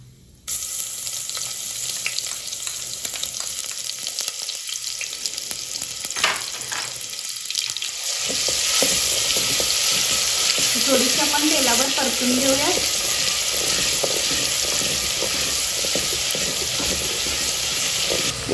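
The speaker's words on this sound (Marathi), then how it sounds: "आपलं तेल तापलेलं आहे तर याच्यामध्ये आपण मगाशी जी आलं लसूण कोथिंबीरची पेस्ट ठेवली होती ती आता आपण याच्यामध्ये घालून घेऊयात" A ginger, garlic and coriander paste dropped into hot oil in a clay pot for mutton bursts into a loud, steady sizzle that keeps spitting and hissing, with stirring scrapes now and then.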